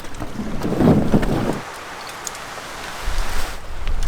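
Stiff headwind buffets the microphone while a canoe is paddled on a wild Canadian river, with gusty low rumbles loudest early, a lull in the middle, then rising again toward the end.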